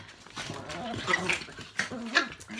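Pet dogs indoors at home, sharp barks and yelps repeating in an uneven burst, fairly close and loud.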